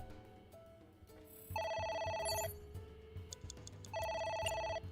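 A telephone rings in the video game AI: The Somnium Files, two bursts of a trilling electronic bell over quiet game music.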